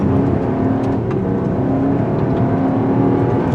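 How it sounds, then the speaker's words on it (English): A 2024 Buick Envista's three-cylinder engine revs and accelerates up close, a loud, steady mechanical drone that builds under load. "it doesn't really sound like a 3-cylinder unless you press it hard"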